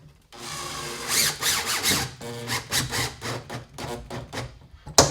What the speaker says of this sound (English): Don't fasten these too tight or you might crack the tub flange